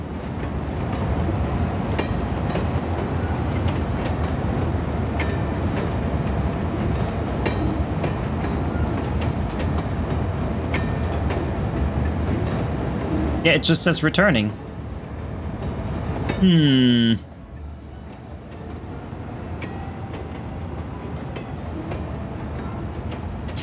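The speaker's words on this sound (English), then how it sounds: "Let's follow this train." A heavily loaded cargo train rolls along rails in Cities Skylines II, a steady rumbling clatter that runs under a voice, with two brief metallic screeches partway through.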